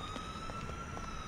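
A wailing ambulance siren in the GTA 4 video game, a steady high tone sounding moderately distant and faint beneath low traffic rumble, with no talking.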